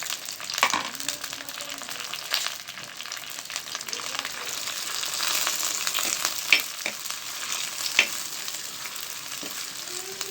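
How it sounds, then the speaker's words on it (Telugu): Green chillies and curry leaves fry in oil in a cooking pot, giving a moderate continuous sizzle with occasional spatters and scraping stirs, close by and with no voices. "ఇవి బాగా వేగాలండి."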